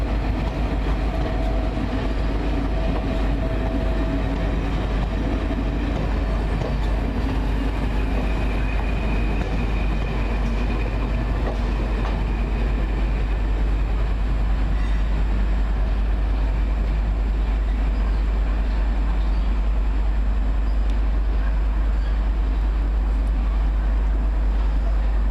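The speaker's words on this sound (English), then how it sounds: "Got some old EWS coaches here." Old EWS railway coaches on the line at Waverley station, Edinburgh, give a steady, continuous rolling rumble with faint rail clatter throughout, loud and close with no voices.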